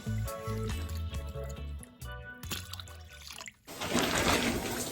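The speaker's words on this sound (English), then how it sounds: "now I'm about to go rinse this out of my hair" Music plays for several seconds, then water from a shower rinsing apple cider vinegar out of locs rushes in as a steady, close hiss.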